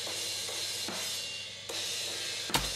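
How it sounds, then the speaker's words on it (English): Heavily compressed overhead drum track from a metal mix, parallel-compressed: a dense, sustained wash of cymbal hiss with a few sharp hits pumping through, loud and steady with no talking. "Then I've copied the overhead track and have compressed it heavily."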